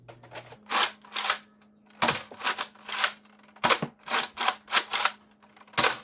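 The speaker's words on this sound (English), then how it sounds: "now we're just going to shoot it and show how it works" A Nerf Mega blaster fires darts in a quick series of sharp, loud pops and mechanical clacks, about a dozen shots in uneven bursts with a faint hum between them.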